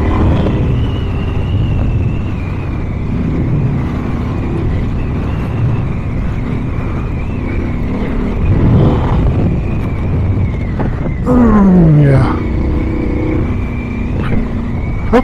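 A KTM 790 Adventure R motorcycle accelerates hard through sand on a mountain pass, its engine roaring loud and close throughout with a rising rev and gear change near the end, over steady wind rumble.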